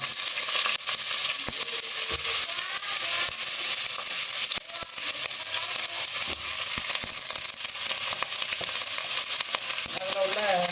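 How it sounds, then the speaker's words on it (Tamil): Grated bottle gourd sautés in hot ghee for halwa, a loud continuous sizzle and crackle with frequent scraping, stirring strokes throughout. "நெய்யில் வதக்கி எடுக்கணும்"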